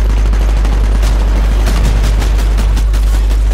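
Rapid, loud smart pistol gunfire in the video game Titanfall, a dense burst of shots with heavy low-end booms filling the whole stretch, with no talk over it.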